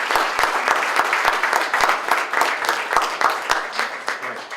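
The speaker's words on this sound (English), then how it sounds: "So a special round of applause for our donors." An audience at an evening exhibition opening gives a round of applause for the donors, a steady dense wash of clapping from many hands throughout.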